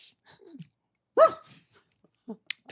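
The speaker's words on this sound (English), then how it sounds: "There's a dog in here." A dog lets out a single sharp, close yelp or bark against a mostly quiet indoor background, with a few faint rustles and small noises before and after.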